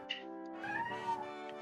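A fat cat named Midnight lets out a drawn-out, wavering meow close by, rising and falling in pitch with a short chirp just before it, and no talking over it.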